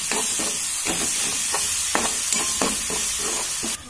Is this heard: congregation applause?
no